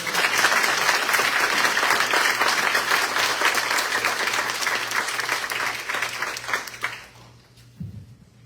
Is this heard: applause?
yes